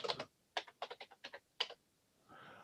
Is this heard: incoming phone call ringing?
no